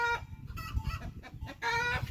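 Chickens clucking close by, a few short bursts of cackling calls separated by brief gaps, with faint background noise and no talk.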